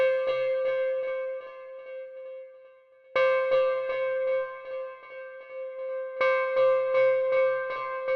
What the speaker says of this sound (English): Here we're getting a bunch of echoes.